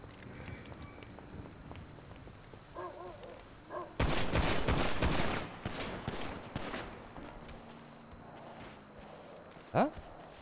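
Gunfire in a GTA roleplay game, a dense burst of shots around the middle followed by scattered single pops and a sharp loud crack near the end, with footsteps and faint voices underneath.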